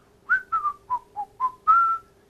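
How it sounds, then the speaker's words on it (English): A person whistles a short tune of six clear notes, each separate, the last held longer, close and alone with no talking. "Can you whistle? I am whistling."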